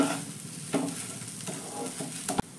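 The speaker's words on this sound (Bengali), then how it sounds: "তো আমি এই খুন্তি দিয়েই হালকাভাবে একটু ম্যাশ করে নিচ্ছি।" Spiced boiled potato being mashed with a spatula in a hot pan: close, gentle scraping and pressing strokes over a faint sizzle, with a sharper metal knock near the end and no talking.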